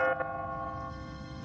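A resonant church bell tone rings and sustains with a ringing metallic hum, struck automatically on a timer in a deserted city, followed by a sudden loud thump at the very end.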